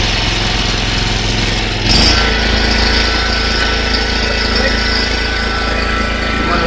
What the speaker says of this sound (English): Start it up, we're going to get ready to go.